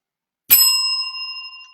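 A single bell strike rung by a comedian on a stand-up stage, sharp and bright at onset, then a clear metallic ring that lingers and slowly fades, heard alone without talk.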